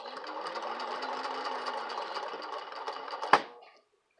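A 1952 Singer 15-91 sewing machine stitching heavy knitted socks runs in a steady, fast whirring rattle, then a single sharp crack as the needle strikes a pin, after which the motor winds down to silence.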